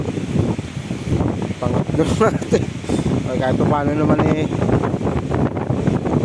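Strong northeast monsoon wind buffets a fishing boat near Talim Island, a constant low rumble of wind against the microphone running beneath steady conversation throughout.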